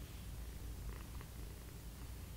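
A soft, low, continuous purr rumbles close by, steady and quiet with no other sounds.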